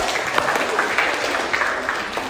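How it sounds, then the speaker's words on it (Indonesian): Classroom group claps together at a teacher-training session, a dense steady patter of many hands at moderate loudness lasting a couple of seconds with no talk over it. "Tepuk tangan sama dulu"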